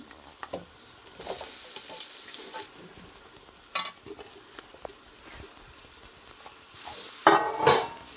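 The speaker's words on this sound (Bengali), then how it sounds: "এখন আমি এই সবজিগুলো সব দিয়ে দিব।" Vegetables with sprouts and potatoes tipped into a hot pan for a sabzi, bursts of sizzling frying between quieter stretches of scraping and stirring, with sharp clinks of a utensil against the pan.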